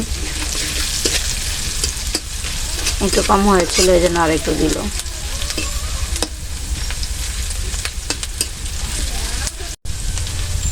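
Turmeric frying in hot oil for a cabbage fry, a steady close sizzle and crackle that runs through the whole stretch while someone speaks briefly over it.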